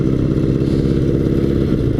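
Motorcycle being ridden, its engine a loud, close, steady low rumble with a rapid pulsing throb throughout.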